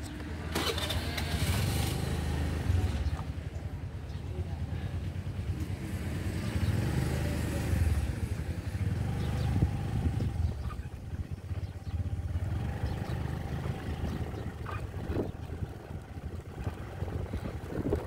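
Honda Dio scooter riding on the road, a steady engine hum mixed with rushing wind noise, continuous and moderately loud for the whole stretch.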